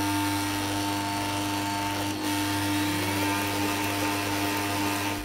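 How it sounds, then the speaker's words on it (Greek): A steady, loud electric mixer whirring at maximum speed while beating loukoumades dough, a constant mechanical drone with a brief dip partway through, no voices. "θα αυξήσουμε την ταχύτητα στη μέγιστη δυνατή που έχει το μίξερ μας."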